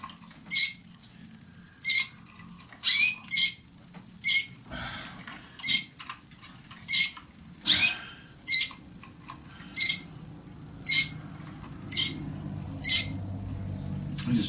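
Birds in a loft give short, sharp high squeaks roughly every second, each repeated call bright and close over a faint background of shuffling and low rumble.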